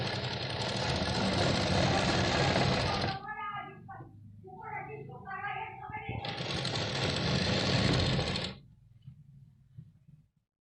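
Sewing machine stitching a katori-style blouse, two loud bursts of close, fast whirring stitching separated by a pause in which someone speaks in Hindi.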